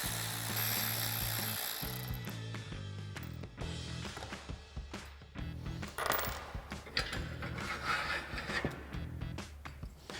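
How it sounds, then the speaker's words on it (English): A ratchet with a 13mm socket runs carriage bolts off a bed rack bracket on a 2016-2023 Toyota Tacoma, giving rapid close metallic clicking in repeated bursts with short pauses and clanks between runs. "we're going to grab our 13mm socket on our ratchet and just run these off"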